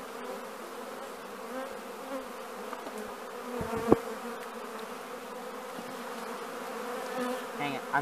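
Honey bees hum and buzz in a dense, steady drone at an open hive, close and moderately loud, with a faint click or tap near the middle.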